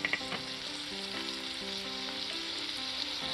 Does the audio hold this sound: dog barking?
no